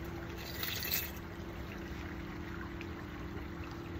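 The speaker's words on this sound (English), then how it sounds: "But sometimes I just like coming here and just enjoying the water sounds." Flowing water trickles softly and steadily at a quiet outdoor spot, a faint, even wash of sound with a slight swell near the start and no talk over it.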